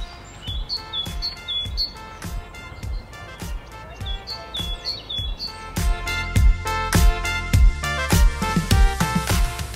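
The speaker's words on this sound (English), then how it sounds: "different types of beautiful birds, each with melodic songs to sing" Songbirds chirp and whistle in the York museum gardens by the River Ouse, bright repeated tweets layered over a fuller, louder outdoor background that swells toward the end, with no voices.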